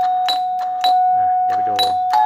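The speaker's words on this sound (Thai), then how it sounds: "กระดิ่งเก่าแล้วครับ" An old electric doorbell sounding during a household 220V wiring test, several loud, close bright rings in quick bursts with a steady electrical tone underneath, as someone speaks between the rings.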